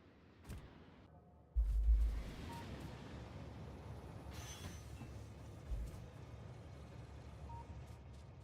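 A train in the game Factorio rolls along with a steady, moderate rumble, opening with a heavy low thump, then a continuous mechanical roar and faint squeal-like tones.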